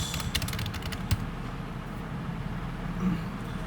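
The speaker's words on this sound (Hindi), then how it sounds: "प्लीज़ मेरी टाइपिंग को थोड़ा सा नज़रअंदाज कर लेना, इतनी अच्छी नहीं है भाई" Computer keyboard typing while a résumé is filled in, with a quick run of close, light key clicks early on, then steady background hiss with only scattered faint taps.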